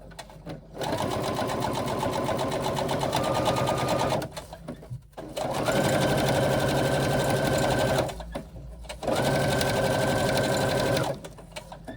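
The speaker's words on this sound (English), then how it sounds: "we are going to stitch with a 1/4 inch seam" Sewing machine stitching a 1/4 inch seam on a Haley wristlet, three loud close runs of steady whirring, each a few seconds long, separated by brief pauses.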